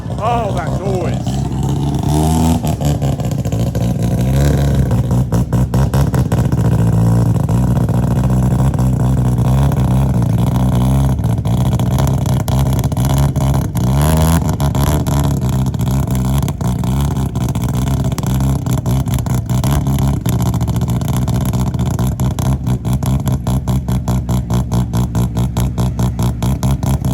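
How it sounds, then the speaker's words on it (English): A first-generation Mazda RX-7 rotary engine is push-started at a local car gathering in Thailand, a steady rough engine drone running under nearly continuous talking. "They're push starting the RX-7."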